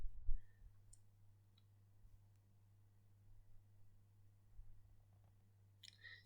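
A few sharp mouse clicks on a submit button, quiet and close, with a soft low hum running underneath and no talking.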